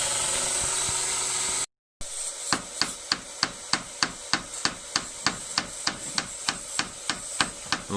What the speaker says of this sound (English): peening the end over. So with a ball peen hammer, the round end